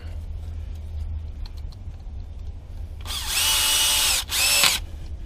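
A power tool drives bolts tight during an APR intercooler install on a 2016 Volkswagen Golf R MK7. It gives one loud, close buzzing burst with a short break in the middle, over a steady low background hum.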